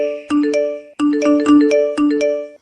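A phone ringing with an incoming call plays a loud, close electronic ringtone, short bright melodic bursts repeating in a steady pattern with brief gaps between phrases.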